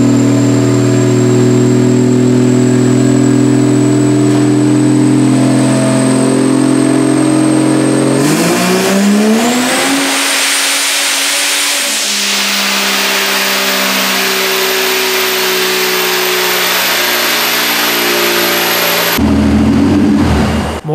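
Stock Vortec 4200 engine screaming through a boosted dyno pull, a loud rising rev that climbs steadily, stutters with ignition breakup near the top, then drops back before a brief final roar; no voices.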